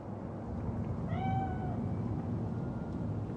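A cat in the video game Cyberpunk 2077 gives a single clear, drawn-out meow over a steady background ambience.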